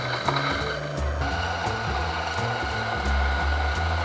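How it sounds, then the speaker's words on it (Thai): A Fiorenzato coffee grinder set to espresso grinds a double dose of beans, making a close, chattering mechanical whir with a lumpy, rhythmic low churn. "บดด้วยเครื่องบดเฟีเรนซาโตออกกราวนะฮะ หมุนปรับไปที่เอสเพรสโซ"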